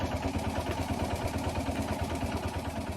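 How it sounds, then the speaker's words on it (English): A loud vehicle engine runs steadily in the video game Martha is Dead, a throbbing, rhythmic chug close and constant throughout with no talk. "this is one loud engine!"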